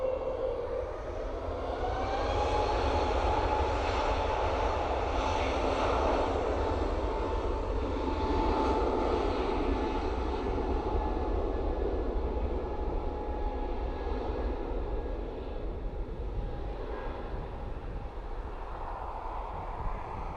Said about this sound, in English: going to do a runway inspection after this aircraft takes off